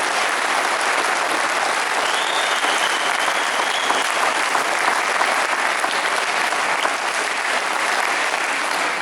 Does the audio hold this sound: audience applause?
yes